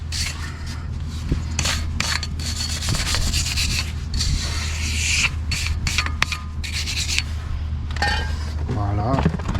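A brush scrubs the dirty inner face of a BMW 1 Series F20 wheel during a front brake job, giving close, irregular scraping bursts over a steady low hum.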